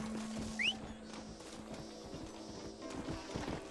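Faint horse hoofbeats in the video game Red Dead Redemption 2 clop along steadily under a low hum of background noise, with a brief rising chirp early on.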